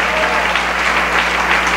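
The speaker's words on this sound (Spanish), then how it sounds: "Dele ese aplauso fuerte, porque Dios se lo merece." A church congregation gives loud, sustained applause throughout a Spanish-language worship service, a dense steady wash of clapping with faint voices mixed in.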